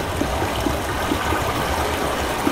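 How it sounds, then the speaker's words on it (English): Loud, continuous rushing water in the Channelwood Age of the video game Myst, a dense, steady flow with no pauses. "Really loud water."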